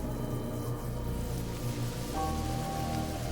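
Rain in the video game Mind Over Magic drips through two layers of floor onto a ritual sigil, heard as a steady, soft patter over a low hum.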